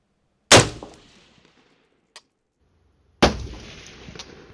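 Two loud, sharp rifle shots from a Sako ARG S 40 fired from prone, spaced nearly three seconds apart, each ringing out with a decaying echo, and a faint metallic click heard between them.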